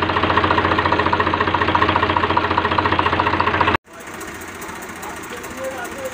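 Swraj 735 FE tractor with water getting into its engine runs loudly at a steady rhythmic diesel chug, then cuts off abruptly and is followed by quieter background noise.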